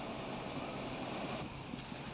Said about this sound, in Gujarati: ગાજવીજ અને ભારે પવન સાથે વરસાદ નોંધાયો